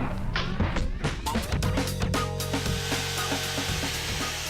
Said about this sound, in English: The borrowed chainsaw is put straight into action as the supports are removed one by one.